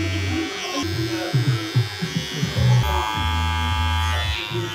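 Electric hair clippers cutting a skin fade on short curly hair, a loud, steady close buzz with a pitch shift partway as guards are changed and light strokes against the scalp.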